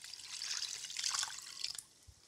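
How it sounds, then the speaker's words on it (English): Water poured into a cooking pot holding chicken for shami kabab, a steady splashing, trickling stream heard close up and alone for about two seconds before it stops. "Then pour in 2 cups of water"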